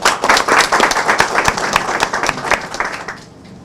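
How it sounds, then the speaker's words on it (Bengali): An audience at a journalists' gathering applauds, a burst of dense clapping that is loud at first and thins out toward the end. "আমরা সবাই একসাথে আমরা হাততালি করি"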